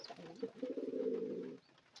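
Young pigeon chicks give a low, gurgling coo held for about a second, close up and fairly quiet, with no talk over it.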